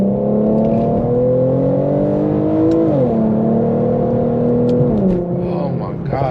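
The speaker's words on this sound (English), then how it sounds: "Oh my gosh, this car is so responsive." A tuned Infiniti Q50 accelerating hard from inside the cabin, its engine note climbing steadily through gears with shifts and a few pops near the end, heard loud and close.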